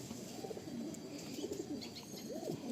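A Malwai pigeon gives low, rolling coos that are partly buried under steady broadband background noise, with a clearer curling call near the end.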